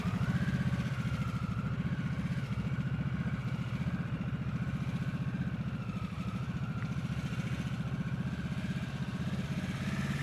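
A motorcycle rolls at slow speed during riding-skills practice, its engine holding a steady low idle-like rumble with faint clatter, loud and continuous throughout with no talk.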